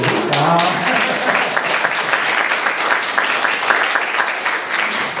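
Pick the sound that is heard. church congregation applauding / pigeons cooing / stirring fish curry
church congregation applauding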